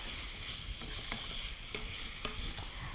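Red peppers stir-frying on high heat: a faint steady sizzle with scattered clicks and scrapes from stirring in the pan, no voices.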